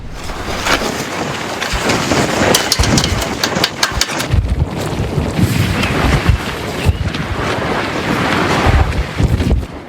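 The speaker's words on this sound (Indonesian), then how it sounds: "Angin kencang menerjang jalur Gaza sejak Senin waktu setempat" Strong wind roars across the Gaza Strip, a loud continuous gusting rush with buffeting on the microphone throughout, no voices.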